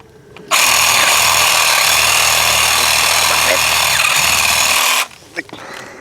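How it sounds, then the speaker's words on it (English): A Ryobi P514 saw cuts through a small tree trunk about 1.5 to 2 inches thick, giving a loud, steady, buzzing cut that holds for about four and a half seconds and then stops abruptly. "but normally I use both hands with this saw."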